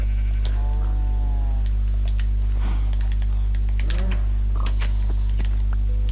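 Blocky sheep in the Minecraft video game bleat a few times over a loud constant hum, with keyboard clicks tapping throughout.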